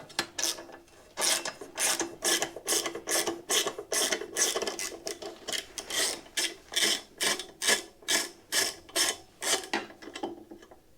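A ratchet works on the seat bolt of a Royal Enfield Classic 350 motorcycle, giving a long run of evenly spaced, close clicking bursts, one after another, with no talking.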